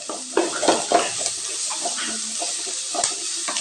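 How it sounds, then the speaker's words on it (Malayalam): Chopped onions with salt stirred in a frying pan, a soft continuous sizzle with light scraping and clicking stirs close by. "ഉപ്പും കൂടി ചേർത്തിട്ട് ഞാനിതൊന്ന് നല്ലതുപോലെ ഒന്ന് ഇളക്കി കൊടുക്കുന്നുണ്ട്"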